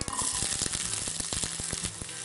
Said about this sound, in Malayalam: കടുക് പൊട്ടി തുടങ്ങി. നമുക്ക് ചെറിയുള്ളി ഇടാം.